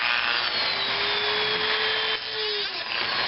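A power tool cuts into an epoxy-filled CDI unit with a steady, loud whining grind, pitch sliding slightly as the blade bites, briefly dipping near the end.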